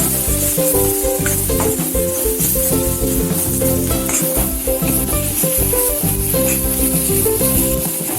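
A masala of cauliflower and peas with chilli and coriander powders is stirred and sizzles loudly in a pan, with a steady frying hiss and repeated scraping strokes running throughout and no talking.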